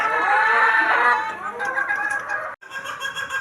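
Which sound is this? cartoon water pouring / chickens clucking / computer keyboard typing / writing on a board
chickens clucking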